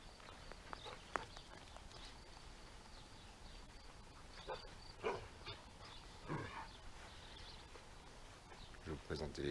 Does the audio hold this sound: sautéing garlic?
no